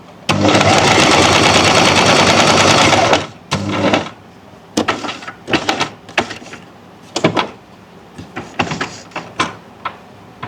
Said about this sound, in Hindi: इसको हम पूरा यहाँ वी के पॉइंट तक स्टिच करेंगे